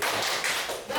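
A group of teachers at a learning-community session claps together, a dense, brief burst of hand claps filling the room, close and fairly loud for about a second.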